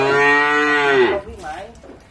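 A cow gives one loud, drawn-out moo on a cattle farm as cattle are loaded onto a truck for sale on the first day of Tet, followed by softer background sounds and faint voices.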